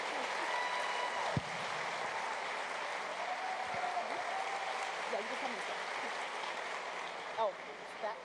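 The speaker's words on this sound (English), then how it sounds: "Please join me and give them a round of applause" Audience applauding panelists after a schools address, a steady broad wash of clapping with some faint talking and a few brief voices mixed in.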